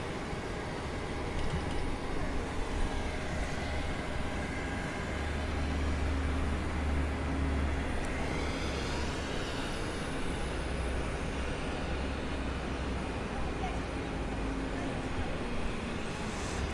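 Jet airliner at Gimpo International Airport in Seoul, a steady broad roar heard from an observation deck, with a rising whine partway through as a plane moves past at moderate distance.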